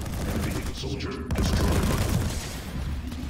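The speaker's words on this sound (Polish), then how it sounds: "Zobacz, jaką masz szybko strzelność tej broni." Rapid weapon fire in PlanetSide 2, a dense rattling stream of shots under a busy battle din, with a sharp crack midway and someone speaking over it.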